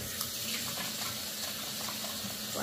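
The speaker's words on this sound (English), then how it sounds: "I'll just wash my hands first." Tap running while hands are washed at a kitchen sink, a steady, fairly quiet broadband rush of water with faint splashes and no talking.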